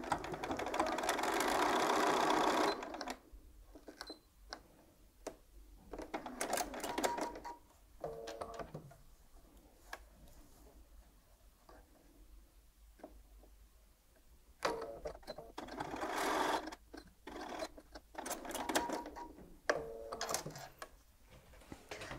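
A sewing machine runs a straight stitch along fabric beside a bound buttonhole, in a loud whirring burst at the start, then quieter stop-start stitching with clicks and pauses, and another run of stitching later.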